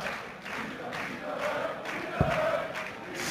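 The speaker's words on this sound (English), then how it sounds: "Crowd trying to lift their man." A darts crowd at a semi-final cheers on Peter Wright, a steady, distant roar of voices and shouts with a brief thud partway through, fairly faint.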